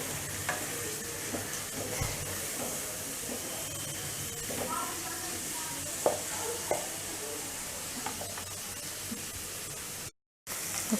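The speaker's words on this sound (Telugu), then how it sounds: "మంచిగా కలిపేసుకుందాం." Thai noodles fry in a pan, a constant sizzle and hiss broken by soft scraping stirs and light clinks, with a few brief knocks.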